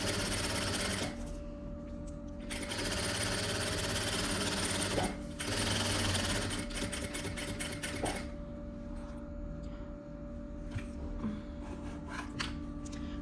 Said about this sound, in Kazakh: жилетіміздің шетінен 2 сантиметр қалдыра отырып, кәдімгі түзу тігіспен қосып тігіп шығамыз.